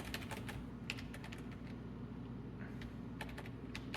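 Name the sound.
computer keyboard keys being pressed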